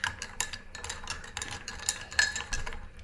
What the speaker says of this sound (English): I will put the salt in it like that, and then you stir it up like this.